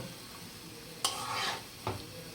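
Panch phoron and dried chillies hit hot oil in a pan, giving a quiet background sizzle with two sharp bursts of crackling and stirring clatter close by.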